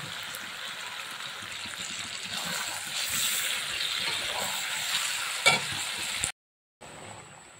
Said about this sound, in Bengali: এইভাবে কষিয়ে নিতে হবে।